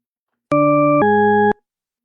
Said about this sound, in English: It's an auditory illusion called the tritone paradox.